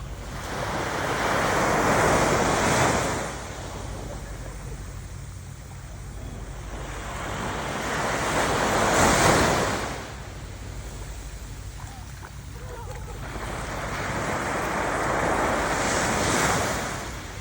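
Waves surge and crash onto a beach in Zambales in three broad swells, each rising to a loud roar then receding, with steady wind noise between.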